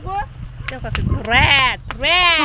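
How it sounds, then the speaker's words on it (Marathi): Sheep bleat in a flock of a herding family's animals out in a field, with several close, loud, wavering bleats following one another, mixed with shuffling and a person talking. "शेतामध्ये बऱ्याच मेंढ्यांचे कळप आता यायला सुरुवात होते"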